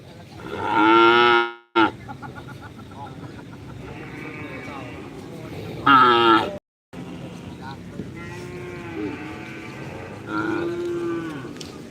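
Cattle at a karapan sapi bull race in Pamekasan, giving repeated loud moos and lowing calls that break out between short gaps, with crowd noise and people talking in the background.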